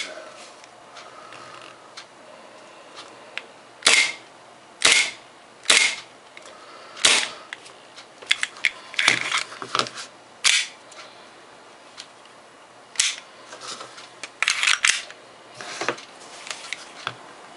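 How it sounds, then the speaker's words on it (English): A gas-powered 1911 pistol being dry fired, giving sharp, loud, dry snaps with the slide cycling, fired singly and in quick irregular bursts, alone in a quiet room. "I think this has got some gas in it, so I can dry fire this, and I have no problem in dry firing."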